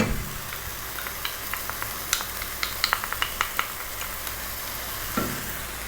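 Ground beef meat sauce with tomato paste, garlic and dried oregano sizzles steadily in a pan while a spoon stirs it, adding a scatter of light scraping clicks over the constant frying hiss.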